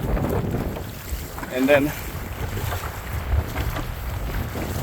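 Strong wind gusts buffet the microphone while fishing from a boat on rough water, a steady roaring rush with brief surges, and a voice speaks briefly over it.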